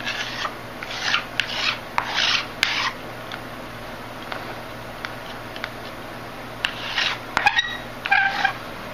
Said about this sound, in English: you can come back and scrape it all up to gather it up again